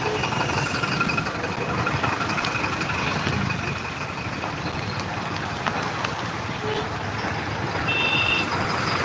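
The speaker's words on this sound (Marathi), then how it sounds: "पूर्णपणे ट्रॅफिक पॅक आहे" Heavy, jammed street traffic: a dense, continuous rumble of idling trucks and engines with a tonal reversing beep or horn cutting through, loud and steady throughout.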